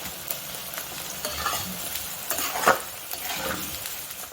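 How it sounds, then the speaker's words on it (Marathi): Onion and peanuts frying in a pan for kanda poha, a steady close sizzle with stirring scrapes and occasional utensil clinks, no talk over it. "असं मस्त फ्राय करून घेते कांदा"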